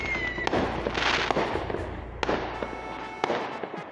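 Fireworks bursting outdoors at a New Year's celebration, with several sharp loud bangs and crackles scattered over a continuous rumble of distant explosions.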